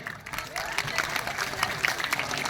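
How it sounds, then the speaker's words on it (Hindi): A school crowd claps for children performing at an Independence Day celebration, a steady patter of applause with a few voices talking under it. "तालियां रुकनी नहीं चाहिए।"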